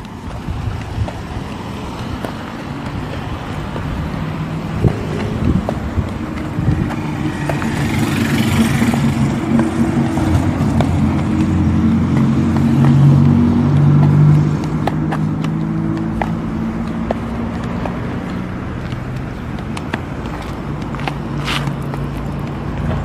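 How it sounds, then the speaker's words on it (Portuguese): A car comes up from behind on a road near Cafelândia, its engine and tyre noise swelling into a loud pass before fading, with heavy wind buffeting and no talk. "Sobe meio rapidinho aí que tá vindo carro aqui,"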